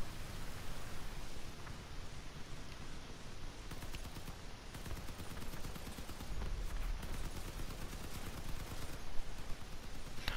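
Dense, continuous gunfire from the vehicle combat game Crossout, a steady barrage of rapid shots running unbroken throughout at a loud, close level, with no talking.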